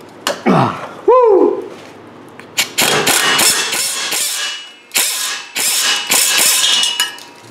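Vice grips clamped onto a flex pipe exhaust during a DIY repair: sharp metallic ratcheting clicks and scraping bursts, loud and close, working in repeated short strokes after a brief whirring squeal.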